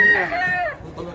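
Chickens and roosters at a busy poultry market in Mantalungon, Cebu, with one loud drawn-out crow up close at the start, then quieter clucking against crowd noise.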